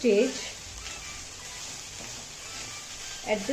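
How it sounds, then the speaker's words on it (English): Cooked masala is stirred gently in a hot pan with a soft, continuous sizzle, while a voice talks briefly at the start and again near the end. "Very gently stir all the masala that we have cooked"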